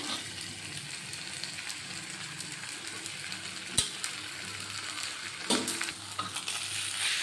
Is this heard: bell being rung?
no